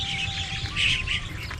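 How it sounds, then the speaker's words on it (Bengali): Birds chirp briefly and softly at a wetland, a few thin high calls over quiet outdoor background. "এখানে অসংখ্য পাখি রয়েছে দর্শক"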